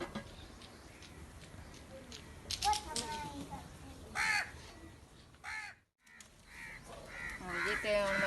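Crows caw repeatedly and loudly nearby while feeding on rice and drinking water, their harsh calls spaced irregularly with a brief quiet gap partway through and a low outdoor murmur underneath.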